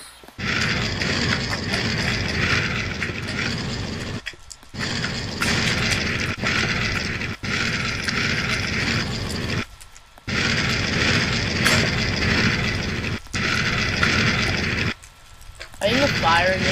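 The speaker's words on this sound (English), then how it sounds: "Let's do a flamethrower." Flamethrower fire from the SDK Guns mod in Minecraft roars in long, loud, steady bursts separated by short gaps, repeated several times across the stretch.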